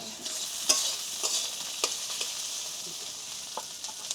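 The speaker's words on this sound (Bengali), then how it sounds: "এই যে একটু ভেজে নেওয়া হচ্ছে আলুগুলো" Potatoes frying in a pan for a home-cooked koi fish curry give a soft, steady sizzle at low volume, broken by a few sharp clicks and scrapes of a spoon stirring them.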